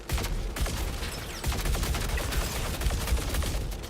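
Dense, rapid gunfire from a multiplayer firefight in Star Citizen, a sustained barrage of overlapping shots and bursts, close and loud with no talk over it.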